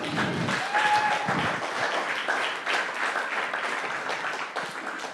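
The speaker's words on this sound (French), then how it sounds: "Si quelqu'un est content qu'il applaudit le Seigneur" A church congregation claps during a French-language sermon on repentance, a loud burst that settles into steady, lively applause filling the hall for several seconds.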